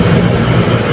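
A compressor fan motor runs steadily during a bench test, a loud continuous low drone with a dense broadband whir and no pauses.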